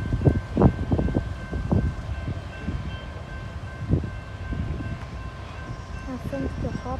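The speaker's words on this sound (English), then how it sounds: "Kansas City Southern SD70 Ace leading." A Kansas City Southern freight led by an SD70ACE locomotive rumbles past, with heavy low rolling noise and steady mechanical hum while people talk nearby.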